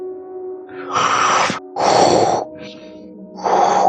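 A voice imitates heavy, rough breathing: three loud, drawn-out breaths with short pauses between them, close to the listener.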